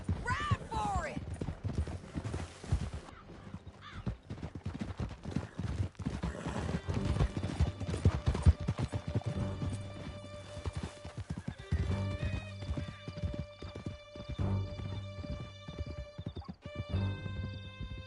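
Horses galloping in Red Dead Redemption 2, steady hoofbeats under a loud game soundtrack, with whinnies and voices talking throughout the 18-second ride.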